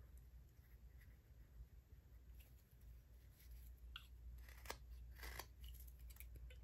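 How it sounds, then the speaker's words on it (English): A knife carves a notch into a wooden gnome figure, producing faint, close scraping and clicking cuts in short irregular strokes over a low background hum. "all I'm going to do now is kind of start cutting a notch over on this side"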